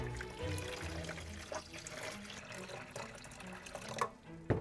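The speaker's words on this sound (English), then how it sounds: "Let's fill up the bathtub with water." Water runs into a small toy doll bathtub, a quiet, steady trickling and splashing stream with a few soft clicks and knocks near the end.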